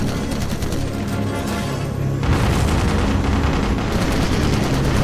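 Bomber tail gun machine gun fire in Call of Duty: United Offensive, loud sustained rapid bursts of automatic fire with booming impacts through a continuous wartime aircraft din.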